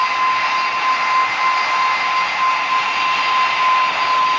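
A steady, loud airliner jet engine roar with a high whine during a landing in the PTS flight simulator game, holding constant without talk.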